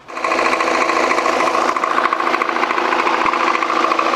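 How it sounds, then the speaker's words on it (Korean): A Volvo XC90 engine running steadily at close range, a loud continuous mechanical whir with a ticking, buzzing texture that holds at an even level for a few seconds with no speech. "시동을 한번 걸어보자고."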